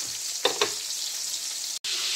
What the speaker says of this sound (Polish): Widzimy, jak ta pięknie skórka się podsmaża.